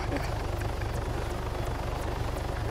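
A police helicopter flies in the video game Altis Life, its rotor chopping in a rapid steady pulse under a loud, continuous engine roar.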